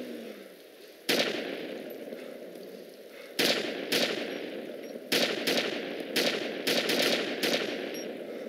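Gunfire from ArmA 2: Operation Arrowhead, the military video game, rings out as a series of sharp shots over a steady background rumble, starting with a single report and building into quicker bursts.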